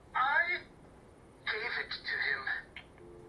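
A phone rings in Batman: Arkham City in two long trilling bursts separated by a short pause, loud and close, with a quieter tone trailing at the end.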